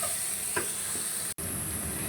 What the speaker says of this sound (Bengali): দিয়ে ভালো করে কষিয়ে নিব মশলাটা।